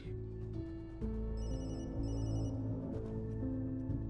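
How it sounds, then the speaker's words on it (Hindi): A telephone rings with a bright electronic trill in repeated bursts, fairly close, over a low steady hum and some background tones. "बाबू का फोन है।"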